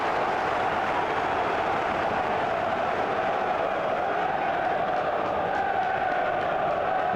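A football stadium crowd at a Queens Park Rangers v Leeds United Championship match roars in a dense, continuous wall of cheering and noise that holds steady throughout.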